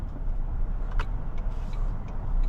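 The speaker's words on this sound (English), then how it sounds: "I love the rumble from that engine" 2024 Toyota Tundra Hybrid Limited engine, partly synthesized, giving a low, steady rumble from inside the cabin while driving, with a few faint clicks over the continuous drone.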